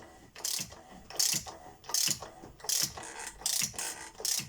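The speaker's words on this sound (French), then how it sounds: "Là on entend le joint qui commence à s'écraser" A tool tightens the oil filter housing on a BMW 1 Series in repeated ratcheting strokes about every 0.7 seconds, each one a close, scraping squeak as the seal compresses.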